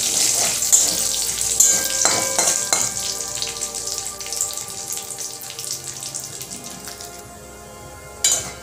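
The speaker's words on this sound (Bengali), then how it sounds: "1-2 সেকেন্ড ফ্রাই করে নেব।" Cinnamon, cardamom, cloves, dried red chillies, cumin seeds and bay leaves crackle in hot oil, a steady close sizzle with a few louder spits and a brief clatter at the end, no voices.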